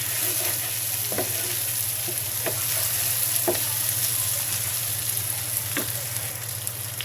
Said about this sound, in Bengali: আমি চিংড়ি মাছ দিয়ে, নারকেল চিংড়ি দিয়ে ভেজে নিচ্ছি।